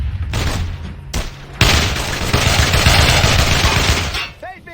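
Squad gunfire in the World War II shooter Brothers in Arms: Hell's Highway, with loud bursts of rifle and machine-gun fire ringing out close by for several seconds after a short pause, then fading at the end.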